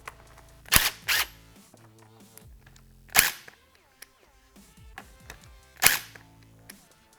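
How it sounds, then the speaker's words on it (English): A 10mm socket wrench loosens four motorcycle fender nuts: crisp, close clicks and snaps come in short separated bursts, with quieter tinkling and handling noises between them and no speech. "Now it'll be necessary to remove these 4 fender nuts. I will be using a 10mm socket to perform this step."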